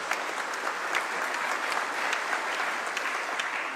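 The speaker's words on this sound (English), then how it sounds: "Why don't we welcome her with a warm, warm clap?" An audience at a heritage conference gives a warm, steady round of clapping to welcome a minister, an even wash of many hands at moderate level with no break.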